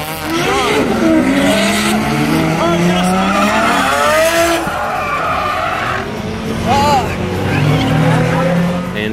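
A drift car slides at big steering angle with a second car chasing close behind, tires squealing in long wavering howls over a loud, continuous engine roar that rises and falls throughout.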